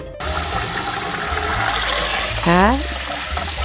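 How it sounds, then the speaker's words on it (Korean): Rice being washed by hand in water in a home kitchen, a steady close swishing and running-water rush with sloshing, and someone speaks briefly over it. "이렇게 맑은 물이 나올 때까지 씻어 주세요"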